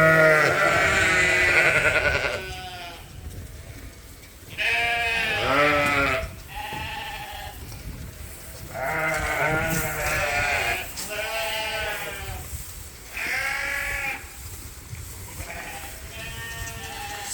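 Sheep in a breeding group bleat repeatedly, several loud, wavering calls from nearby animals overlapping and following one another across the stretch, over low farmyard background noise.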